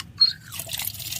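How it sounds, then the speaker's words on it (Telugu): Water runs into a container being filled for a lemon plant, a short liquid splash and trickle close by, heard alone. "ఇది ఫుల్గా వాటర్తో నింపుకుందాం."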